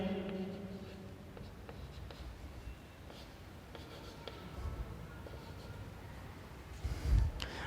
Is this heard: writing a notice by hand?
yes